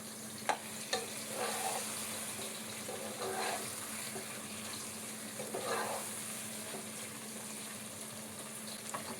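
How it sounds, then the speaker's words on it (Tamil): Masala with ground coconut sautés in a pan for drumstick chicken masala, a quiet continuous sizzle broken by a few sharp utensil taps and short bursts of stirring, with no speech. "மசாலாவும் பார்த்திங்கன்னா நல்லா வதக்கியாச்சு"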